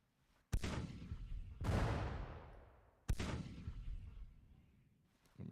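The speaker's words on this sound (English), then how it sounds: "The artillery's hitting us." Artillery shells from Civil War cannons slam into the lines at the Battle of Fredericksburg in Grand Tactician, three loud distinct booms each followed by a long rolling decay, with a fourth blast just starting at the end.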